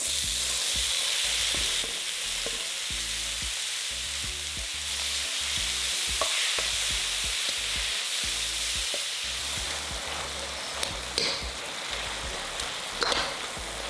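Tomatoes, onion and ginger sautéing in a pan for tochong bangus, a steady close sizzle with rhythmic spatula scrapes and clatters through the first half, then a lighter hiss with occasional clinks.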